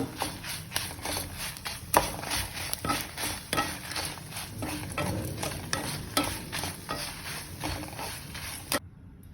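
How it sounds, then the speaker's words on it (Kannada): Masala spices with cinnamon stick dry-roasting in a pan for a Mangalore-style thondekayi kadle sukka, with steady stirring scrapes and light crackle, spoon knocks against the pan recurring every second or so, near and moderately loud. "ಇದನ್ನೆಲ್ಲ ಹಾಕಿ ಈ ಮಸಾಲೆಯನ್ನು ಚೆನ್ನಾಗಿ ಹುರಿಯೋಣ"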